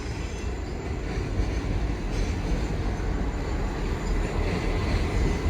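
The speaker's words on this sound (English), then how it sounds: "There's another Freightliner 66 passes by" A Freightliner Class 66 diesel freight locomotive rumbles past at Clapham Junction, a steady, loud, continuous roar of engine and rolling wagons with no voices.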